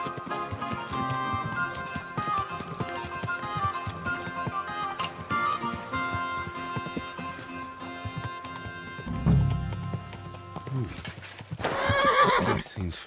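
A horse in the medieval role-playing game Kingdom Come Deliverance 2 whinnies and clops its hooves, the neigh rising loud near the end over steady background music and game ambience, with speech heard beforehand.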